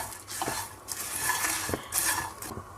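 A spiced namkeen snack mixture stirred in a pan over a low flame, with repeated scraping and clinking of a spoon against the metal pan over a soft, continuous sizzle, close by, no talking.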